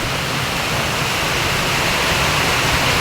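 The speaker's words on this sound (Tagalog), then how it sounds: "Parang naaagos talaga yung tubig sa kalsada." Heavy rain pours down with water rushing along a street in Calamba, Laguna, a steady loud broadband roar of downpour and runoff that holds constant throughout without pauses.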